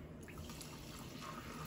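Soda water poured from a newly carbonated bottle made with a home soda maker, a faint continuous trickle and fizz with small drips, heard quietly in an indoor room.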